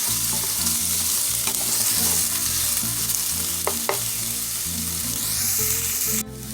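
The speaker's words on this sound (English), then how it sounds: "you're going to let that saute for 3 minutes" Chopped onion sautés in a pan over medium heat, a steady close sizzle and crackle running throughout, with a brief clatter or scrape near the end.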